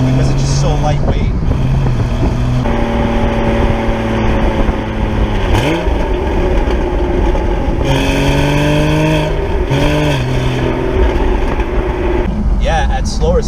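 A lightweight Porsche Boxster's 2.7-liter engine pulls in third gear from around 2,000 RPM, a steady, rising drone with a few gear-like pitch sweeps. It stays loud and continuous, with someone talking over it.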